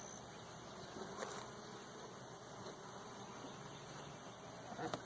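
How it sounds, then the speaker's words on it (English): Honey bees buzz steadily in an open hive, a dense continuous hum close by with faint higher whine, no voices. "You see all these bees right here?"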